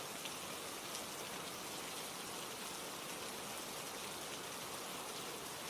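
Steady water patters and drips outside a window at night, a continuous even hiss like rain falling on surfaces, fairly faint and unbroken throughout.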